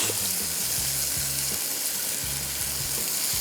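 A milk mixture boils in a cooking pot, giving a steady, close bubbling sizzle with rhythmic scraping as it is stirred.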